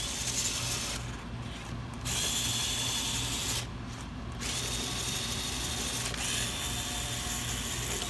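DeWalt power tool working on the injector bolts of a 6.0 diesel engine, giving a steady mechanical whir with a ratcheting, clicking texture and two short gaps where it briefly stops.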